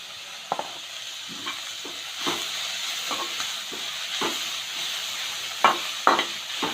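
Onions and curry leaves fry in a pan for a bottle gourd and prawn curry, giving a continuous hissing sizzle broken by occasional stirring scrapes and a couple of sharper taps near the end, close by, with no one speaking.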